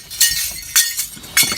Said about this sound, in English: So we about to break the glass.